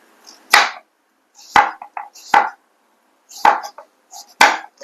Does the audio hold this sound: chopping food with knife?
yes